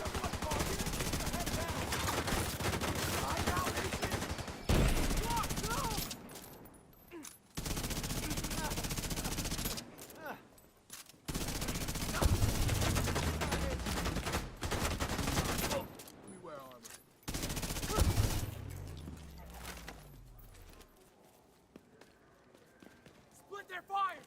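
Gunfire in the video game The Division 2 comes in repeated automatic bursts and sharp shots separated by short pauses, with players talking over the firefight.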